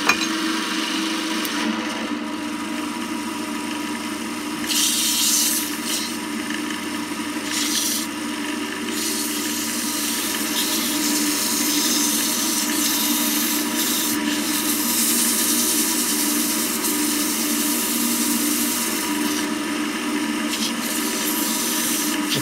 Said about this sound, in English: And again, sand it.